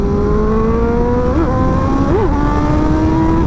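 A 2024 BMW M1000XR motorcycle with a 210 hp engine pulls hard, its loud, close tone climbing steadily through the revs with brief dips at gear changes and no voices over it.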